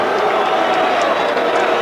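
A boxing arena crowd boos after a unanimous decision in a Julio Cesar Chavez WBC junior lightweight title bout. The roar is loud, dense and unbroken throughout.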